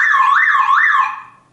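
A car alarm with a faulty sound, wired to the car horn, wails loud and close in a rising and falling two-tone warble, two sweeps alone before it fades out.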